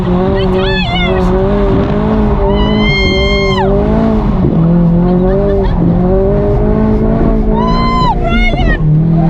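A 420whp Ecoboost Mustang's tires squeal in long, wavering screeches over a loud, revving engine during a hard drive. Excited voices shout inside the car throughout.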